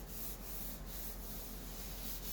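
Hand block sanding on the body panel of a 1969 Plymouth Sport Satellite, a steady continuous rubbing rasp with faint rhythmic strokes, close and even throughout.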